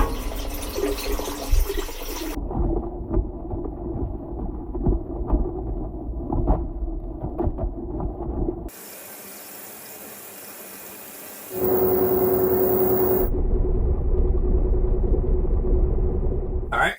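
Washing machine running a hot water cycle with a OnePlus 13 phone tumbling inside, heard from within as sloshing rumble and hiss, broken by abrupt shifts in loudness.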